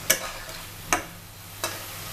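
Pre-fried cauliflower florets tossed into a pan with potatoes and stirred, with three sharp utensil scrapes spaced apart over a low background sizzle, close and clear.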